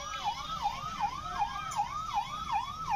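A fire brigade vehicle's siren wails in a steady, repeating rise and fall, responding to a large fire in the Katghar police station area of Moradabad. It sounds moderately distant and continuous, with no talking.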